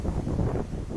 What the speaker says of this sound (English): bit of a wind.